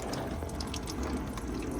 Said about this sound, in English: Let's get the water supply going.